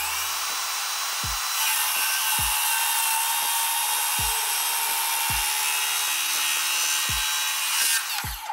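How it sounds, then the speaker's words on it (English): A power saw trims the excess off the tops of wooden fence posts, a loud, sustained whine and rasp running for several seconds with repeated sharp knocks spaced about a second apart. "Next was to trim off the excess of each post."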